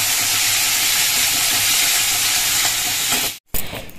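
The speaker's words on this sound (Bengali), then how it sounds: "তো চিংড়ি মাছটা এখন ভেজে নেব।" Shrimp frying in hot oil gives a loud, dense, steady sizzle up close, cutting out abruptly near the end before a brief quieter sizzle resumes.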